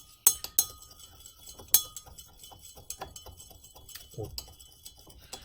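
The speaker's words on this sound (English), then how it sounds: "So I'll just use a glass rod" A glass rod taps and clinks against a glass while stirring a sodium bicarbonate mixture, a few sharp bright clinks early then softer scattered ticks, close and quiet.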